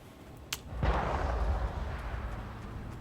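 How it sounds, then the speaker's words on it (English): A single gunshot cracks out in a video game, followed by a heavy boom that rumbles and fades over a low, continuous background. "Did you hear the gunfire?"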